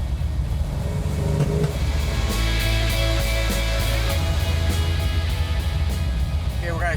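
A 1970 Dodge Challenger with a 440 Six Pack engine, triple two-barrel Holley carburetors and a four-speed manual, rumbles loudly and steadily at speed from inside the car, with people talking over the engine.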